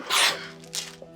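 A sharp, breathy sneeze bursts out near the start, followed by a softer second exhale, close and fairly loud.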